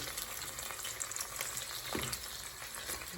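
Fish and onions sizzle steadily in a pan for konkoe sauce, a dense, close frying crackle with occasional stirring scrapes and no talking.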